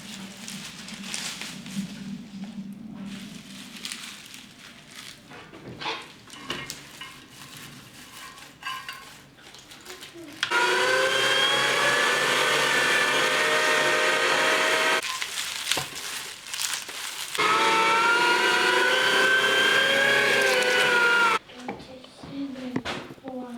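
An electric grinder turns parsley into mince for an Azerbaijani kebab, running in two loud, steady motor-whine stretches of several seconds each, separated and surrounded by quieter kitchen handling and talk.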